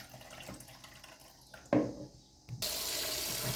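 Sour cherries are rinsed under a kitchen tap: quiet handling and splashes first, then the faucet opens into a steady hiss of running water.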